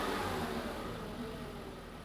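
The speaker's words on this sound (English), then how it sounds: "if you can blip the throttle a couple times there, and you can see how quickly that reacts there" Car engine revved as the throttle is blipped during an air/fuel ratio sensor test, a steady loud mid-pitched engine roar that stays fairly constant and eases off slightly toward the end, with no talking.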